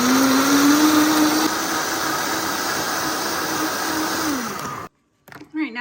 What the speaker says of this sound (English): I'm gonna put it through a Vitamix and then make it really smooth.